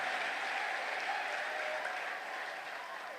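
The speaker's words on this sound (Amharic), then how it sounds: "በእልልታ ጭብጨባ" A church congregation claps steadily with ululation mixed in, a dense, even wash of applause that holds at a moderate level throughout without pause.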